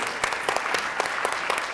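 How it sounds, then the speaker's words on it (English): Brief round of applause from a small audience at an institute's council kickoff, with distinct individual claps audible in a fairly sparse, rhythmic patter. "A little round of applause."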